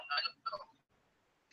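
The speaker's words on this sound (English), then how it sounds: "That's a chime on the elevator." Two quick elevator chime tones sound close together, bright and brief, followed by near silence.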